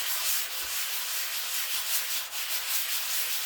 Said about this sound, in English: I put a coat of this yellow putty on here, and I've been sanding for a little while